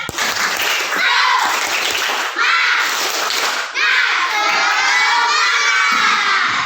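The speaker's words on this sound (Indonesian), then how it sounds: "Coba tepuk semangat." A classroom of schoolchildren in an Islamic religious education lesson loudly chants the rhythmic tepuk semangat clap routine together. Young voices shout in near unison in several bursts, close and energetic, while individual hand claps are hard to pick out beneath the chanting.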